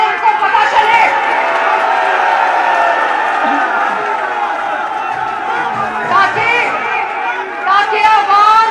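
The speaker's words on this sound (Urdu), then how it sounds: "یہ نعرے جو آپ لگا رہے ہیں" A large crowd of party workers at a PML-N rally in Sheikhupura, loud and sustained, with many voices shouting and chanting together in a dense roar, swelling in places with whoops.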